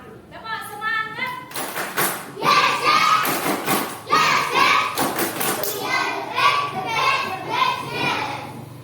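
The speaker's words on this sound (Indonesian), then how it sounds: "kita tepuk semangat dulu" Children in a classroom perform a rhythmic spirit clap, tepuk semangat, with sharp group claps and thuds mixed with chanted children's voices, loud and close throughout.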